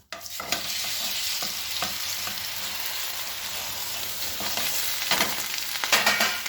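Instant handvo batter made with Maggi sizzles and fries in oil in a pan, a steady crackling hiss with a few clinks and scrapes of utensils near the end and no talking.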